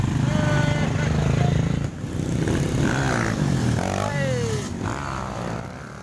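A motorcycle engine drones and revs throughout a road ride from Bandung toward Hambalang, Bogor, with people talking over it and the engine note shifting as it accelerates.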